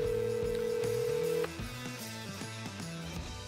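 A telephone call being placed: a steady dial tone for about a second and a half, then a series of short electronic dialing tones in a quick, uneven rhythm. No one speaks.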